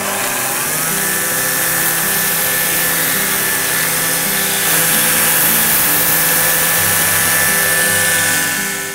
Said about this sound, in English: so now what we're gonna do is we'll go out and sand it down.